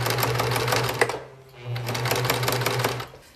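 Sewing machine stitching back and forth on fabric: a loud, fast, even motor whir with rapid needle chatter, briefly pausing in the middle before starting again.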